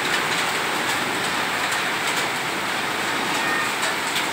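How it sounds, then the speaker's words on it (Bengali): Hail lashing down on a road outside a shop in gusty wind, a loud, unbroken roar of dense impacts with faint rhythmic clatters throughout. "প্রচুর পরিমাণে দমকা হাওয়া অলরেডি আমার দোকানের ভিতরে কিন্তু চলে আসছে শিল"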